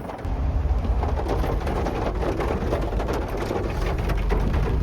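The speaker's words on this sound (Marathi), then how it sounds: "पाऊस आज खूप जोरात आहे" Heavy monsoon rain pouring down near Virar, a dense, steady hiss of falling water that stays loud and even throughout, with no voices over it.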